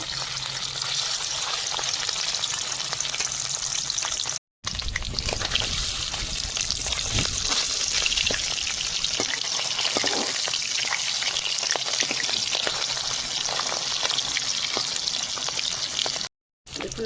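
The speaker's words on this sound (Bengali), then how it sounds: "তেল গরম হয়ে গেছে, মাছ দিয়ে দেবো।" Three pieces of fish frying in hot mustard oil in a home kitchen, a steady loud crackling sizzle that runs continuously with brief breaks, no talking.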